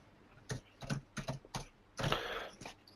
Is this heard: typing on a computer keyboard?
yes